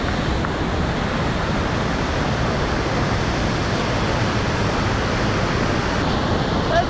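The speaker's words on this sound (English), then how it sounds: "look at this waterfall!" Steady, loud roar of a waterfall at the bottom of a gorge in Shizuoka, Japan, a dense continuous wash of falling water filling the whole stretch with no pauses.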